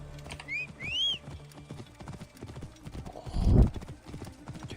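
Horse hooves clip-clop in a rapid galloping rhythm in Assassin's Creed Origins, with a short whinny-like tone early on and a heavier thud near the end, all at moderate loudness.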